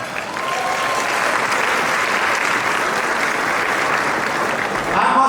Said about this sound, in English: please give yourselves a big applause